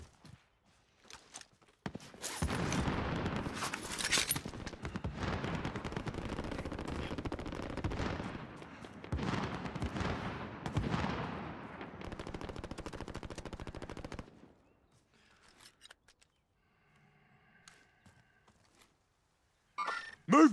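Rapid automatic gunfire in Call of Duty Modern Warfare Warzone battle royale, dense bursts for about twelve seconds, then near silence with a few faint later shots, and some voice callouts mixed in.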